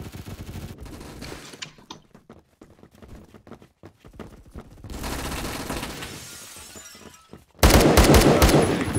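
Gunfire striking a building in the Roblox shooter Phantom Forces: rapid bursts of shots and sharp cracks, then a quieter stretch, a steady rushing middle section, and a sudden loud, dense burst of firing near the end.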